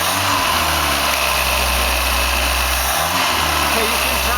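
A rebuilt 1976 Fiat Spider engine runs at a steady idle on a stand, with a low, even rumble throughout and a brief dip near the three-second mark, with faint voices in the background.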